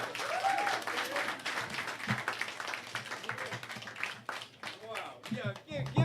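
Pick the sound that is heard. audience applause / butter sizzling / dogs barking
audience applause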